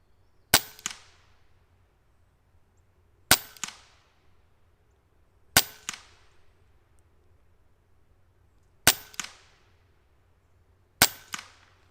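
A Benjamin Marauder semi-auto PCP air rifle fires a five-shot group outdoors, five sharp cracks spaced about two to three seconds apart, each followed by a brief distant impact tap, with no talking.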